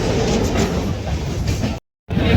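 A passenger train on the Delhi to Meerut line near Shahdara, now past Delhi, rolls along the tracks as a steady, loud rumble of wheels and carriages, with a sudden brief dropout near the end.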